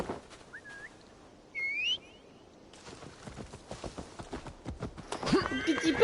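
Horse galloping and neighing in Assassin's Creed Valhalla: a brief whinny and whistle-like squeal give way to quickening rhythmic hoof clops that grow louder toward the end, with faint game ambience.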